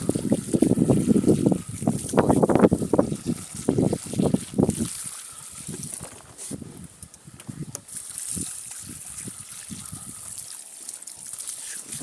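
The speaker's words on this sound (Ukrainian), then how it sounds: "Так, змочуємо спочатку водою." Water trickles from a can or hose onto young cabbage plants in a garden bed, coming in irregular splashing bursts at first, then thinning to softer dribbles under light wind noise.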